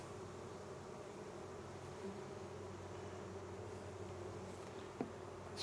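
Honey bees buzz steadily in a hive, a dense, even drone close to the microphone with no talking, holding at a constant level throughout.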